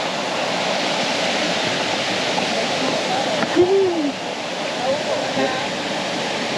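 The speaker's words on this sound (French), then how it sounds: "Je vais vous montrer cette cascade de plus de 100 mètres de hauteur." A steady, broad roar of water falling from a waterfall over 100 metres tall in Meta, Colombia fills the scene, constant and loud, with a brief faint voice partway through.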